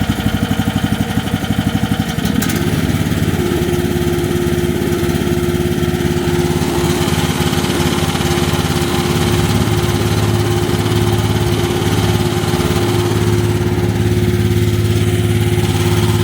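A 1.5-ton mini excavator engine idles during its break-in at a slightly raised idle, a loud, steady, continuous mechanical drone with a brief change in tone near the start and no talking.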